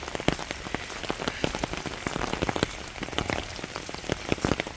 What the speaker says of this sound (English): We got us some rain.